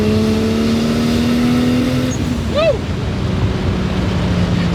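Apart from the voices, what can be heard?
1JZ-engined Mitsubishi Starion accelerating through first and second gear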